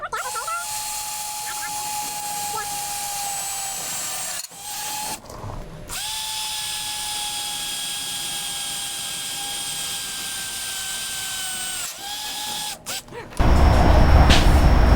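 Close power drill boring bolt holes for a custom grille on a Kenworth W900L truck, a steady high whine running in two long stretches with brief stops and changes in speed, then a louder rough burst at the end.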